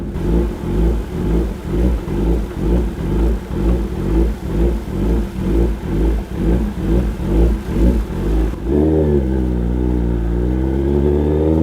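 A 2024 Kawasaki ZX10R motorcycle engine revs loudly and close in a steady rhythmic series of about fifteen quick throttle blips, then drops into a smooth, even idle for the last few seconds.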